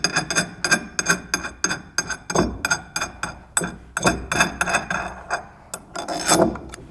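A flat washer and brass nut go onto a modular Candock kayak launch bar. Close, loud metallic taps and scraping clicks come in a quick irregular series of sharp hits over light rubbing handling noise, with no talking.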